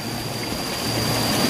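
A river flows at the edge of a forest stream fed by the Curug Ciputrawangi waterfall in Sumedang, a steady close rushing and trickling wash without pause and with no voices.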